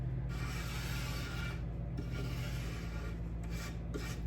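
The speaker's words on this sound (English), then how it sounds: "I've got a rasp here. I'm just gonna take down the edges a little bit" A rasp scrapes along the edges of a plaster damp box for pottery, a close, rough rubbing that comes in several strokes with short pauses between them.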